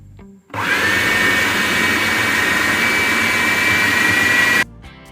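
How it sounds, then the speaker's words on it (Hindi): An electric grinder whirs loudly and steadily for about four seconds as it grinds fenugreek, fennel and ajwain seeds, starting and stopping abruptly with a high motor whine. "ठीक है, अब हम इसे अच्छी तरह से पीस लेंगे।"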